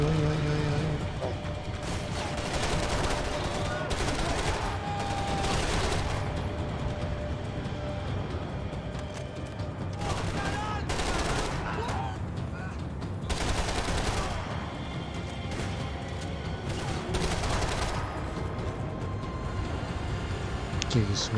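Gunfire in Max Payne 3, dense bursts of shots and fusillades over a loud busy game soundscape, with voices chattering throughout.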